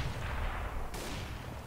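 A grenade explodes in a video game: a dense, rumbling blast that rolls on briefly, with a sharp second burst partway through.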